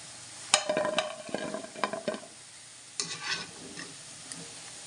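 Crisp fried shakarpare pieces clink and rattle against each other in a quick cluster, then a second, quieter burst. Faint background hiss, no talking.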